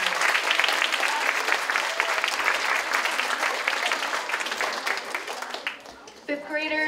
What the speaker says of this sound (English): one last round of applause for all of our poster winners